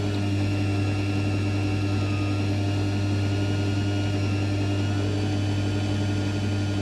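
A 500-watt wind turbine alternator spins under electrical load at around 700 rpm, powering lamps, giving a steady low hum with a strong constant tone and an even whirring drone, loud and unbroken throughout with no voices.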